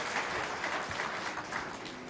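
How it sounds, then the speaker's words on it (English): Steady applause from a small audience at a PAX 2010 stage game demo, a dense wash of clapping that holds evenly throughout. "round of applause."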